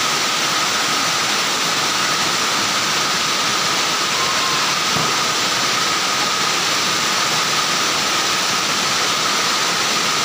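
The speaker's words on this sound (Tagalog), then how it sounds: "Kusog ya pun uwan." Heavy rain pours in a steady, dense hiss at a flooded seaside basketball court, loud and continuous with no pauses.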